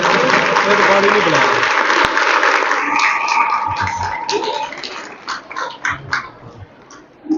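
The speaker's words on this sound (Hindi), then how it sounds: "तालियां बजाएं जरा।" Crowd applause at a Bible quiz contest fills the first few seconds, then thins into scattered claps and murmuring voices before fading.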